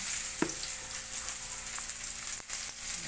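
Onion drops into a pan already frying sardines and sponge gourd, producing a loud, constant sizzle up close, marked by a couple of sharp clicks from a utensil against the pan.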